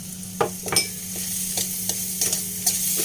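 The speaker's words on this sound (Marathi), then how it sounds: "आणि परत एकदा चांगलं परतून घेणार आहोत" Moong dal being sautéed in a pan with salt and jaggery powder: a steady sizzle with repeated scraping stir strokes and soft clinks, close and alone.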